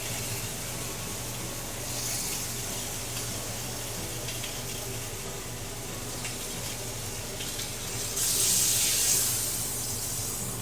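Flank steak sears in a hot pan with a soft, continuous sizzle that swells slightly near the end; no one talks.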